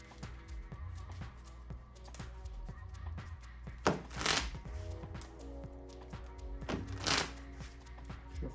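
Pokemon TCG cards are shuffled on a tabletop in repeated riffles, quick crisp flutters with two louder bursts of cascading cards, close and clear with no talking.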